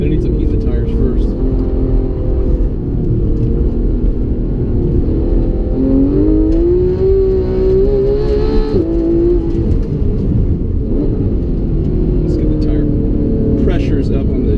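A Porsche 911 GT3 engine drones loudly from inside the cabin as the car circles a figure-eight course on cold tires, its pitch rising and falling through the turns, with a voice speaking over it.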